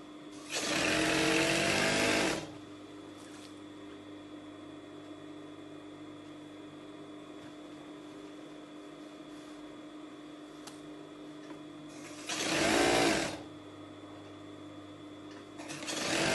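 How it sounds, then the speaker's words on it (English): A sewing machine stitching a cold-shoulder dress runs in two bursts, a loud opening run of about two seconds and a shorter one near the end, with a quiet hum between. "So I'm just going to stitch this part first"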